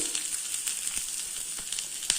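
Onion fries in hot oil after mustard seeds have spluttered, a steady sizzle with small pops and crackles scattered through the hiss.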